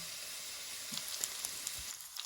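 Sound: pork fat sizzling in frying pan

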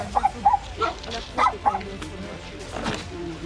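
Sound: dog barking

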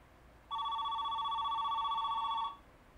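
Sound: telephone ringing in a TV episode

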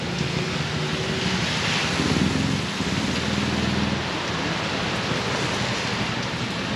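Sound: heavy rain

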